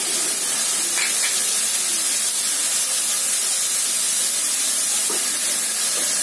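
Turmeric and chilli powder hitting a hot pan of Bengali-style chicken curry, giving a steady, loud, close sizzling hiss that runs unbroken throughout with no talk.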